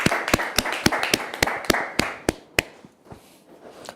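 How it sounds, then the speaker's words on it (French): Studio audience on a TV set clapping with scattered, distinct hand claps rather than dense applause, a dozen or so sharp claps in an uneven rhythm that thin out and fade toward the end. "tous ceux qui sont sur le plateau ont applaudi pour vous dire qu'on vous aime très fort"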